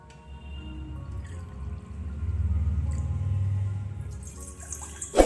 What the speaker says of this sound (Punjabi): ਇੱਕ ਕੋਲੀ ਰਵੇ ਦੇ ਵਿੱਚ ਤਿੰਨ ਕੋਲੀਆਂ ਪਾਣੀ ਪਾਵਾਂਗੇ ਇੱਥੇ